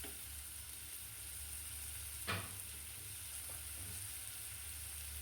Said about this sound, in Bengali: কিছুক্ষণ ভেজে নিচ্ছি আলু আর কাবুলি ছোলাকে।